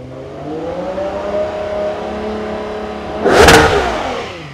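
Ferrari 12Cilindri V12 engine revving hard toward 9,500 RPM, its rising harmonics climbing steadily before a loud, sharp peak near the end; a close, high-pitched wail with no talk.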